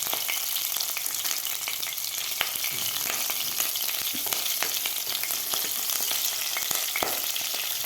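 Green chillies slit lengthwise and cumin frying in oil for masala khichdi, a continuous bright crackling sizzle with occasional stirring clicks, close and fairly loud, no voices.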